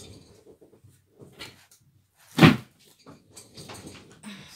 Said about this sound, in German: ich mache schnell die Tür zu.